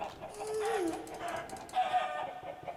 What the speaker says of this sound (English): I'll get some chicken sounds up in there.